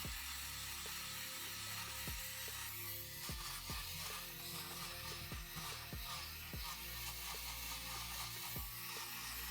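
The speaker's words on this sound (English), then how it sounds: "To remove the sock lint, I'm using a fabric shaver." A cheap handheld fabric shaver runs steadily while it removes sock lint from white Jordan 5 sneakers, its motor whirring continuously with repeated rhythmic clicks and scraping ticks as it passes over the shoe.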